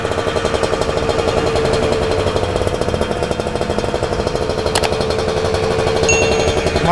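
A motorcycle fitted with a Corse Project carbon racing exhaust and an AHU chamber idles loudly and close by, with a rapid, steady, harsh pulsing that continues without a break.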